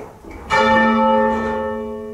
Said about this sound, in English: Each bell in the tower is recorded in turn until all bells are captured.